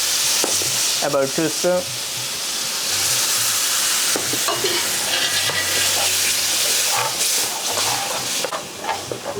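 Gravy sizzles and fries loudly on a hot railway-style tawa while being stirred, a continuous close hiss with scraping strokes throughout; someone speaks briefly near the start.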